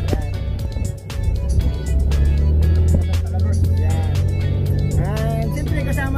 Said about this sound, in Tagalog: Ganyan ka lala ang traffic dito sa Saipan.